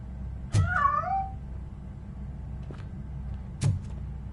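A cat meows in RoboCop: Rogue City, a clear, rising and falling cry near the start, followed by a second brief, sharper sound a few seconds later over a low steady background hum.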